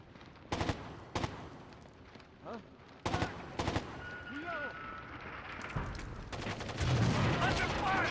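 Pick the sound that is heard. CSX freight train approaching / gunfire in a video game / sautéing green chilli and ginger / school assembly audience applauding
gunfire in a video game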